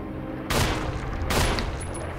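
Two pistol shots from the Resident Evil video game, loud broadband bursts about a second apart, each with a short decaying tail over a low game backdrop.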